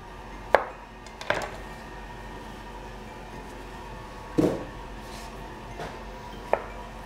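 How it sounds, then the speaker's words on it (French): A knife chops down through a zucchini onto a cutting board a few times, trimming its ends: sharp isolated knocks spaced out with pauses between them. "Je vais couper les extrémités de la courgette."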